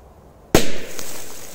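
A Korsar 4 smoke firecracker goes off with one sharp, loud bang, followed by a fading hissing rush as the smoke vents.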